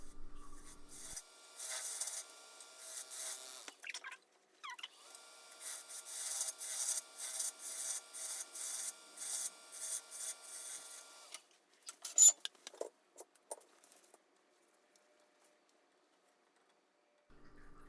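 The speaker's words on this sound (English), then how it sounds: "So to do the inside, I just use carpet tape on that part of the stem, some 80 grit, and slow lathe speed." 80-grit sandpaper rasps rhythmically against the inside of a wooden goblet turning slowly on a lathe, in repeated close scraping strokes that fade into quiet near the end.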